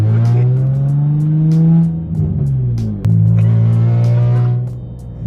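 A project car's engine drones loudly and steadily with a harsh, booming exhaust, the pitch dipping and rising as the throttle shifts, heard from inside the car.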